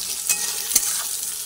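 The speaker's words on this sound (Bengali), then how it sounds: "আদা দিলাম, আদাটা একটু ভেজে নিই।" Ginger frying in a pan with ground coriander and cumin, a close, bright, steady sizzle with two quick stirring scrapes.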